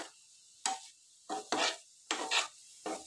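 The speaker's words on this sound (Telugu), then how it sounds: "మీరు ఇలా కొబ్బరి వేసి ఫ్రై చేయండి." Beetroot stir-fried with grated coconut in a pan for a beetroot fry, heard as several short, separate bursts of scraping and stirring with a soft sizzle between them, close by and alone.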